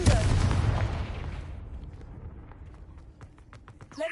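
Confringo blasting spell cast in the video game Hogwarts Legacy: a loud burst and roar that fades away over a second or two, followed by quiet footsteps and small clicks.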